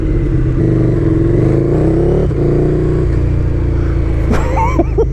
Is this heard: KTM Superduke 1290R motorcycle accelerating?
yes